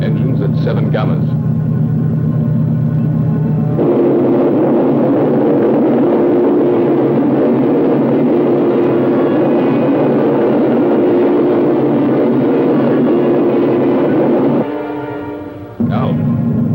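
Spaceship engines in a 1960 science-fiction film, a heavy continuous rumble that swells and holds for several seconds, with voices speaking at the start and end.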